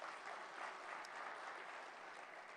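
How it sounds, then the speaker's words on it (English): Applause from a large audience at the opening plenary of an African investment forum, an even, sustained patter of many hands heard at a moderate distance and fairly soft, with no speech over it. "Let's give them all a round of applause."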